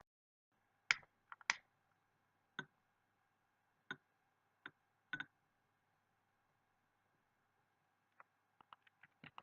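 Scattered keystrokes on a wireless keyboard tap in small bursts, a couple of quick double clicks and a faster cluster near the end, all crisp and close over a faint steady hum.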